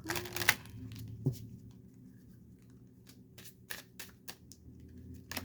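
A deck of Queen of the Five Elements oracle cards being shuffled by hand gives quiet, close riffling and sliding flicks in irregular short bursts, with faint low room noise between.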